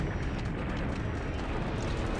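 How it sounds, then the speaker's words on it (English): Ammunition storage exploding aboard a warship in a World War II naval strategy game, a dense, sustained roar of blast and rumble filling the low end, loud and continuous without distinct separate bangs. "An ammo storage explosion on the Vengeful."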